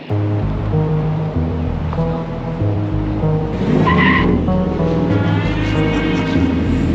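A loud supercharged 775 hp 2021 Ford F-150 engine revs hard while tires squeal and chirp against pavement, the roar steady and close throughout.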